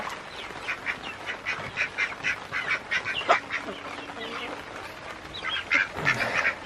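Ducks quack repeatedly in short, nasal bursts, several birds calling close by with a busy, continuous rhythm.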